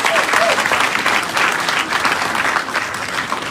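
Audience at a ceremony making the First Lady of Sierra Leone a Doctor of Humane Letters bursts into a steady, loud round of applause that stays full and even throughout, with no voice over it.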